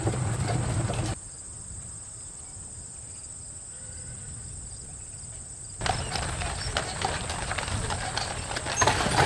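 Horses of a wagon train on the road, with hooves clip-clopping steadily among outdoor noise and a constant high insect-like buzz, dropping quieter in the middle before the hoofbeats return.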